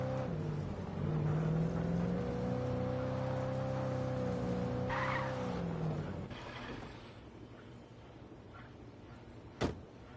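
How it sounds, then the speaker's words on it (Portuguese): Car engine in Alan Wake Remastered, a droning, rising hum that climbs and then fades, followed by quieter rumbling and a sharp click near the end. "Pega esse carro e acelera!"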